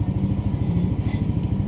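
A motorcycle engine runs close by and is revved while its charging voltage is checked, producing rapid, regular exhaust pulses with a steady throb and light clatter, with no voices.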